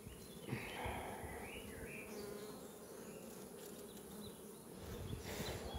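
Honeybees swarming around an open beehive with brood frames full of pollen and nectar, making a dense, continuous buzz close by, with individual bees now and then passing near, and nobody speaking.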